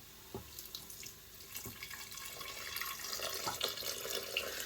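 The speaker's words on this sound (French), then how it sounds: "je vais rajouter 1 litre d'eau" Water from a tap runs into the bowl of a Cookeo pressure cooker, a faint, continuous splashing pour with a few small clinks near the start.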